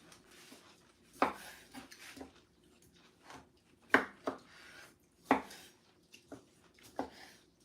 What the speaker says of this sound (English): So I cut and you put them in the bowl.